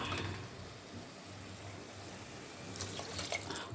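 Water runs and splashes steadily into a pot of rice, a soft continuous pour with a brighter burst of splashing near the end.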